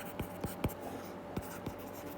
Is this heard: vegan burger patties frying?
no